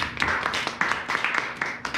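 A crowd at an evening business presentation in Busan claps in a steady, repeated rhythm. The claps are moderately faint and evenly spaced.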